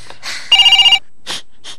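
One short burst of a rapidly trilling telephone bell rings out, framed by brief breathy vocal sounds before and after.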